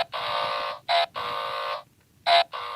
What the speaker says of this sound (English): That sounds like an alarm now.